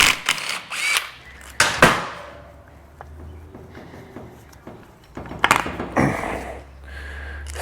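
Starter being removed from a Bennche Spire 800 ATV motor on a bench: several short metallic clanks and scrapes, a brief ratchet-like rattle, then a pause and another burst of knocks and clatter close by, with no talking.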